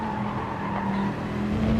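Race car in a GT3 racing video game spinning out, a continuous tire skid and squeal over steady engine drone, loud and close, with no voices.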